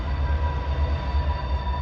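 Former LIRR 38-2 diesel locomotives pull freight cars out of a siding, a steady loud engine rumble with a low droning throb and a faint tonal whine running continuously throughout.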